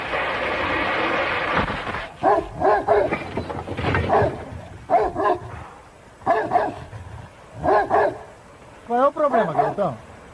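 A dog in the 1993 film Max, chained up at a ranch, barks and growls in repeated short bursts, close and loud, mixed with dubbed Portuguese speech between the outbursts.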